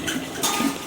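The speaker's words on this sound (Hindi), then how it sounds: "सेट करके बर्तन," Metal kitchen utensils clink and clatter as they are set down after washing in a home kitchen, a brief burst of close, bright knocks with no talk.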